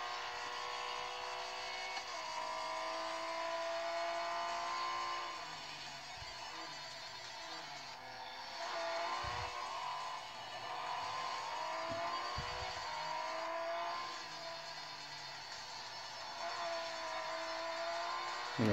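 Porsche engine in a racing video game played on a Xiaomi Mi Pad 4 Plus tablet, a steady synthetic engine drone with shifting revs and whir running continuously, fairly loud and unbroken, with no talk over it.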